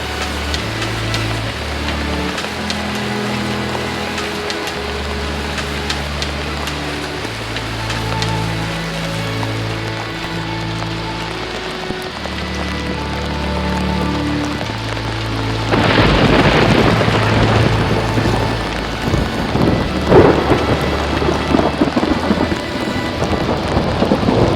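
Steady, continuous rain falls on a mountain trail to Kedarnath, heavy and close, while low thunder rolls in long rumbles and the downpour grows harder near the end.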